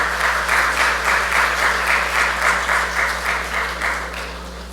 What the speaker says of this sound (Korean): 우리 박수 한번 주세요